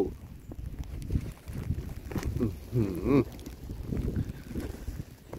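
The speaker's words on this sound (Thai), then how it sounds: "อุ้ยลมแรง" Strong wind gusting and buffeting the microphone outdoors during a snowstorm in Columbia, Missouri, a steady rushing roar with louder swells, and someone talks over it.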